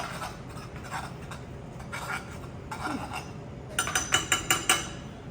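A spoon scrapes and stirs a sauce slurry in a frying pan, soft and close, ending with a quick run of bright metallic clinks against the pan.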